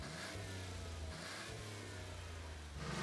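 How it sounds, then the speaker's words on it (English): Car doing a burnout on Coronation Street in Christchurch, its engine revving hard and steadily with rising and falling pitch as the rear wheels spin, heard from a distance. "As he smokes up the back wheels"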